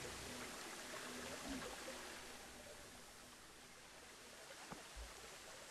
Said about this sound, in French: on passe derrière la cascade